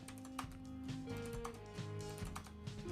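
Keystrokes on a computer keyboard tapping out at an irregular pace, close and fairly quiet, mixed with steady background music that carries sustained tones throughout.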